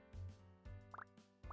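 Water gently poured onto a small tree in Lil Gator Game, a video game, heard as faint soft drips and liquid plops in a loose rhythm over a quiet musical background.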